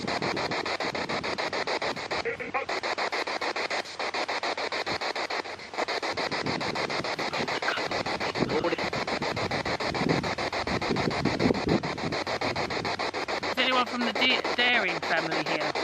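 Constant harsh spirit box radio static sweeping rapidly through stations inside St Nicholas Church, Pluckley, choppy and loud, with brief fragments of voices breaking through the noise.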